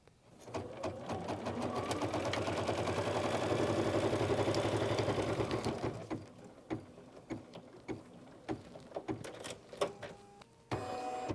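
An embroidery machine stitches a winter snowflake quilt block in the hoop, humming rapidly and steadily for several seconds before settling into scattered clicks and short mechanical taps as it prepares the next section.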